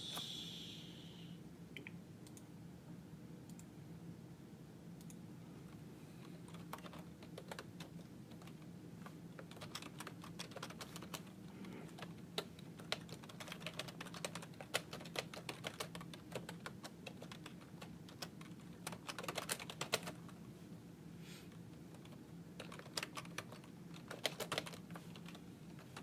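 Quiet, steady typing on a computer keyboard during a phone call, scattered soft key clicks and occasional sharper taps running throughout over a low room hum.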